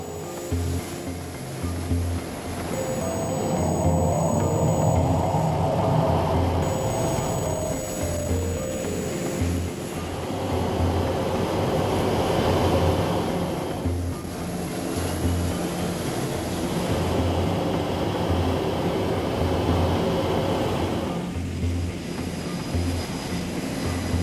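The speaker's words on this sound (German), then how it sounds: "In unmittelbarer Nähe starten und landen Kampfflugzeuge" US Navy fighter jets launch and land nearby on an aircraft carrier deck, a loud continuous roar of jet engines that swells and fades in broad waves over steady wind and deck noise.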